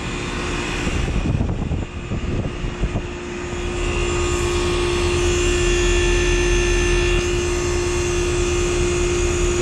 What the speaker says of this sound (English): Has a very loud climate-up reciprocating compressor, which still sounds nice despite it being so loud.